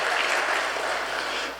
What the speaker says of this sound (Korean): 격려의 박수 한번 보내주시기 바랍니다